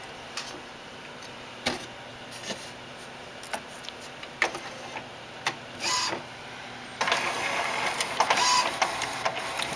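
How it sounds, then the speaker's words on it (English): A printer at work, its print head sweeping back and forth with intermittent mechanical whirs, clicks and ticks, then a longer buzzing pass near the end, close and moderate in level with no talk. "So you can see the print head going along there."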